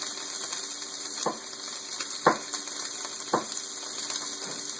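Very thin slices of carne asada beef frying in a pan, with a steady soft sizzle and a few sharp clinks of a utensil against the pan at intervals, faint and with no talking.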